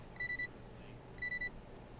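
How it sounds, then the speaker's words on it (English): An electronic alarm sounding two separate bursts of three quick, high, clear beeps with a short pause between them, over a low steady background hum. "Beep beep beep."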